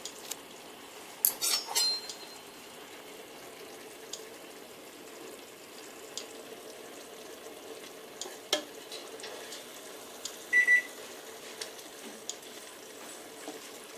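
Eggs simmer in a curry tomato sauce and are turned one by one. A quiet, low sizzle continues throughout, broken by occasional light clinks and scrapes of a utensil against the pan.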